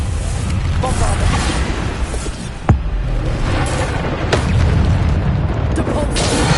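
Deep booming blasts from the Bombarda spell in Hogwarts Legacy rumble through continuous combat noise, with one sharp impact standing out partway through and heavy low-end thuds throughout.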